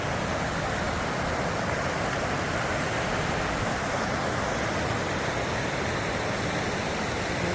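A river rushes in a constant, dense roar of flowing water along a hiking trail on the Pacific Crest Trail, loud and unbroken from start to end with no voices.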